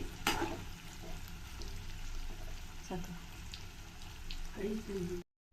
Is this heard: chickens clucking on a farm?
no